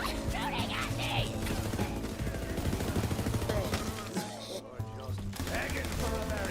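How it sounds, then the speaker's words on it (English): Video game gunfire: dense, rapid bursts of automatic weapon shots and impacts, loud and continuous with a short lull, mixed with game sounds and a voice talking over it. "Stop shooting at me!"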